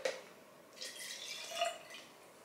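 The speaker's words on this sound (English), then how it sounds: "I just tip the rest of that into the bottle" Water being tipped from a container into a baby formula bottle, a soft, faint liquid trickle with light dripping that runs for a couple of seconds in a quiet room.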